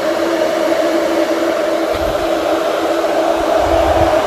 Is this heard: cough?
no